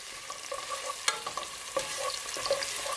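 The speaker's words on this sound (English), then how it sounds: "I'm gonna give it a stir." Garlic and onion sizzle softly in a pan while a utensil stirs them, with scraping strokes and small clicks scattered over the steady frying hiss.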